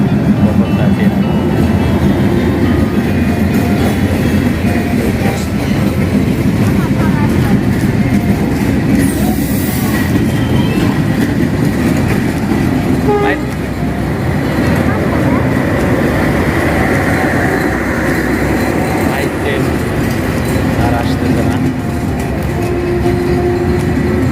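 A train rolls steadily past at a railway station on the Mirzapur to airport station line, a loud continuous rumble with faint rail clatter throughout, voices faintly audible.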